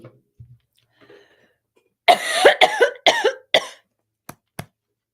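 A burst of several harsh coughs in quick succession, close and loud, followed by two short isolated coughs after a quiet start.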